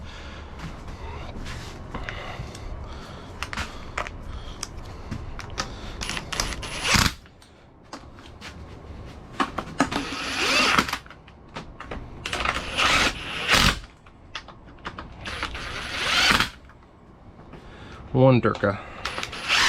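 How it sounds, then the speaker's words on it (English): A torque wrench tightens bolts on a Jeep Comanche 231 transfer case during a rebuild, with close ratcheting and several sharp clicks spaced across the work and a short spoken phrase. "Now I need to torque it down."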